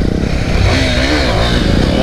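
A motorcycle revs its engine steadily during a wheelie on a road ride, a continuous close engine roar with rattling and scraping undertones throughout.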